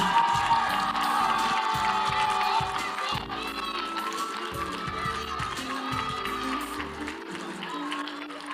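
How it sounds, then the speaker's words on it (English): An audience at a Mister and Miss HBCU pageant applauds the winners, sustained clapping and cheering from a crowd that runs through the whole stretch and slowly eases, with a person speaking over it. "let's give our winners a round of applause one more time"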